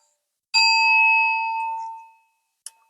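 A single electronic doorbell chime rings out clearly, a bright tone that sustains and fades over about a second and a half, followed by a brief faint tap.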